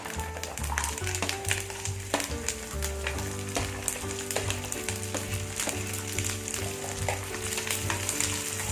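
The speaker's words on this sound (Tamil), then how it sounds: "ஸ்டவ் மீடியமில் வச்சுட்டு இந்த பூண்டை இதில் போட்டு வதக்கி எடுக்கணும்" Garlic sautés in a pan over a medium flame, giving a constant crackling sizzle with occasional taps of a spoon, and a steady tonal music bed plays underneath.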